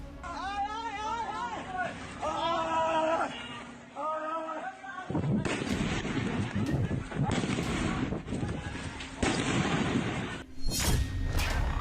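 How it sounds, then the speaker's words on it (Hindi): Loud, broadband bursts of explosions boom repeatedly outside a polling booth during Bangladesh's election, amid crowd chatter, some blasts sharp and close, others rumbling, following a stretch of raised voices. "पोलिंग बूथ के बाहर धमाके ही धमाके हो रहे हैं।"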